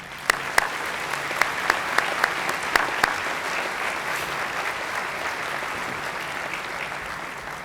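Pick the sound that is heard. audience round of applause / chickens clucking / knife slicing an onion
audience round of applause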